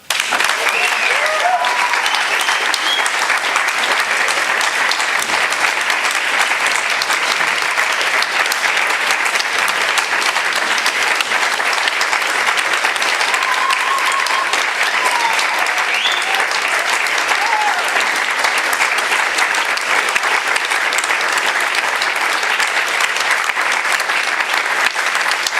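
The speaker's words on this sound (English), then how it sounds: "let's just have one huge round of applause for our panel" Loud, sustained applause from a large crowd for a panel discussion at a 20-year reunion of the 1993 Clayoquot blockade, steady and dense for the whole stretch, with a few faint voices mixed in.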